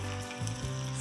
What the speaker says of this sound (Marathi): आता यामध्ये घालूयात पाणी